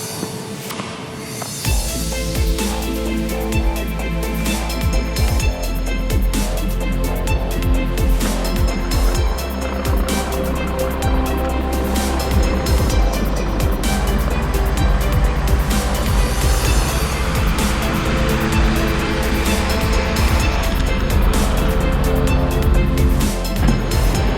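A truck drives along a road in Morocco, its engine droning loud and steady from inside the cab with constant road and wind noise for over twenty seconds.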